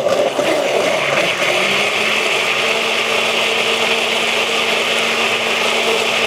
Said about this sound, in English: Then I'm going to blend it just a little bit.